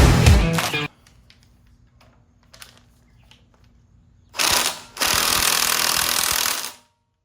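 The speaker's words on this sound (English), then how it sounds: "It's really more like a 3-jaw puller, but we're gonna give it a whirl, see what we got." Power-tool bursts drive a 3-jaw puller on a harmonic balancer during a junkyard 5.3 engine teardown: a short loud rattling burst, a pause with faint clicks, then two longer hammering bursts close by.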